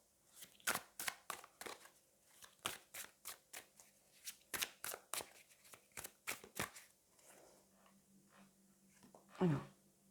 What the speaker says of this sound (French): je vais prendre 4 cartes